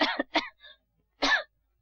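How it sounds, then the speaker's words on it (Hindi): A woman in a 1978 Bollywood film scene coughs several times in quick, close bursts, then once more after a short pause, with no talk over it. "ये खांस क्यों रही हो?"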